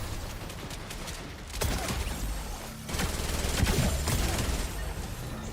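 SMG fire in Fortnite, dense bursts of rapid automatic shots in two longer stretches, loud and close over a busy game background.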